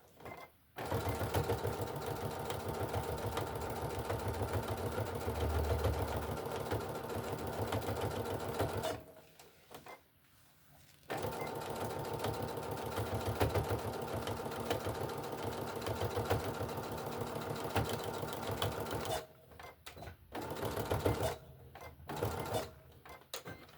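A sewing machine stitches a walker caddy, running in a steady rapid mechanical whir at close range. It stops twice for brief pauses and then resumes, ending with a few short bursts of stitching.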